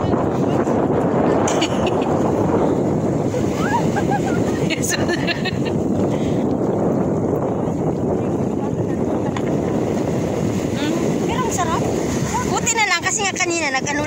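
Strong seaside wind roars steadily into the microphone over breaking sea waves, with faint voices and a child's cries drifting underneath and near the end.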